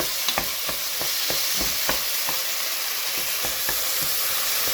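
A pan sizzles and hisses steadily while a utensil stirs and scrapes at a regular pace, tomatoes and onions frying close by for a rabbit gravy.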